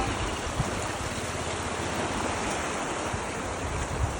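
Water flowing steadily through a canal with a gap in its bank, a continuous broadband rush and churn heard outdoors at moderate level with some wind buffeting the microphone, no voices.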